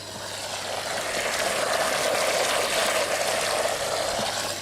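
Water rushing steadily into a garden koi pond through opened pipework, a continuous broadband hiss and gush with a low hum underneath, fairly close and unbroken.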